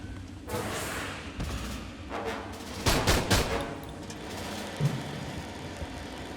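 Gunfire in the shooter game Aliens: Colonial Marines, a series of rapid bursts and cracks with one loud cluster in the middle, set against a steady rumbling game background.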